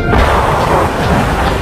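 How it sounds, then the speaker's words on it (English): Heavy incoming artillery and gunfire from Argentine batteries around Stanley during the Falklands War booms loudly in a dense, rumbling burst, close and distorted in an archival radio recording. "More incoming gunfire."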